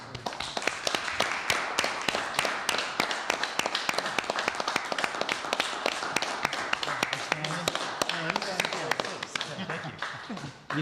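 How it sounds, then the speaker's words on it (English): Applause at a city council meeting during a plaque presentation, a room of people clapping in a sharp, sparse-to-steady patter throughout, with talk underneath. "A round of applause."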